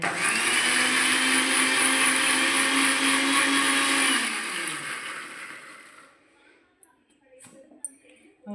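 A mixer grinder whirs loudly as it grinds soup masala for a mutton trotter soup, holding a steady high whine for about four seconds before it winds down. Quiet handling noises and clicks follow once it stops.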